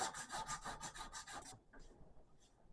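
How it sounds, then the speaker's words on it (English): Knife handle scales being hand-sanded with 80 grit sandpaper, giving rapid rhythmic rasping strokes at close range for about a second and a half, then a pause broken by a couple of lighter scrapes. "This process takes quite a bit of sandpaper."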